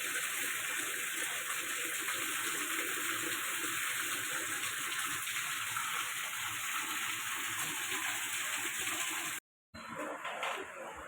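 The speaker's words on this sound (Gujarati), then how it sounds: "જબરજસ્ત વરસાદ" Heavy rain pours down in a dense, unbroken roar, briefly cutting out near the end before resuming.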